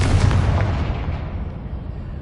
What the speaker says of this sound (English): That pillar is blocking the path. I'll need to move it. Confringo.